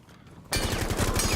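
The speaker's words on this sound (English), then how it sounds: "the gunfire has started" Automatic gunfire in a Rainbow Six Siege collegiate match erupts suddenly after a quiet moment, becoming a loud, dense, sustained rattling burst with no voices.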